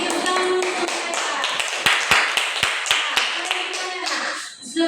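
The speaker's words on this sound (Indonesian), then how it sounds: "Tepuk tangan untuk mereka." Classroom applause for students who have just presented, a dense patter of clapping hands with several sharp louder claps standing out, fading near the end with some voices mixed in.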